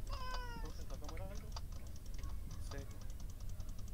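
A cat gives a clear meow at the start, followed by a few fainter mewing calls, with people talking throughout.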